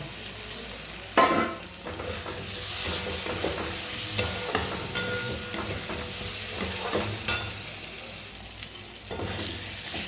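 Fried potatoes and prawns stirred into curry masala in a pan for jackfruit kofta curry: a steady close sizzle with repeated spoon scrapes and clinks against the pan, no voices.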